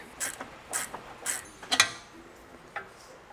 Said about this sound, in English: So let's unbolt the sway bar link.